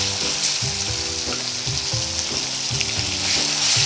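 Coarsely grated onion fries in a pan until brown, giving a loud, steady close sizzle with bubbling crackle running throughout and no voices.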